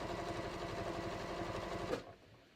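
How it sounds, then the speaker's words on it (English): A sewing machine stitches a shorts waistband, running in a rapid, even whir with a steady mechanical beat for about two seconds before stopping abruptly, leaving quiet room noise. "I am just going to finish sewing this on"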